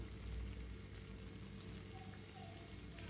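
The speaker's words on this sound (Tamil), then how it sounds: "கத்திரிக்காய், முருங்கைக்காய் ரெண்டையும் சேர்த்து நல்லா வதக்கி விட்டுக்கலாம் எண்ணெயில்" Brinjal and drumstick sautéing in hot oil, with cowpeas to be added, giving a soft continuous sizzle and crackle at low level, heard on its own without talk.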